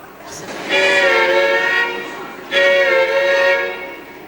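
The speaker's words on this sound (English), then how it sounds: "I have the sound of a train, a distant diesel train." Two long, loud blasts of a distant diesel train horn, each lasting over a second with a short break between, sounding chord-like and steady over faint background noise.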